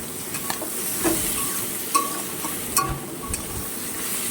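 Fish head and bottle gourd being stirred and fried in a pan with a little sugar, a steady sizzle under repeated scraping stirs and occasional utensil clinks, close and with no talking.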